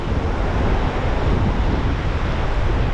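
Sea surf on the shore at Boracay, a continuous broad wash of waves heavily mixed with buffeting wind noise against the microphone, loud and steady throughout.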